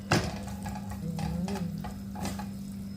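Corned beef frying in a pan for pancit bihon, a soft steady sizzle with intermittent scrapes and clinks of a utensil stirring, fairly quiet and close.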